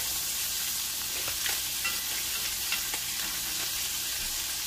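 Butter sizzles in a hot pan with a wild-caught striped bass fillet, a close, steady crackling fry with a few small pops and no voices over it.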